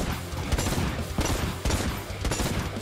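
Plasma gun fire in Necromunda: Hired Gun, rapid bursts of loud, punchy shots in repeated volleys with a mechanical edge, no talk.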